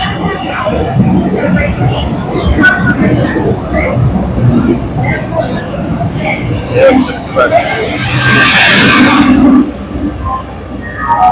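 The Howrah Purba Express passenger train fills the scene with continuous loud rail rumble and clatter, with a burst of hissing air late on and people talking nearby.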